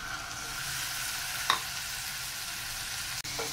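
Boneless chicken pieces frying with browning onions in a pan give a steady, close hiss, with a brief stir or clink near the middle and a faint knock toward the end.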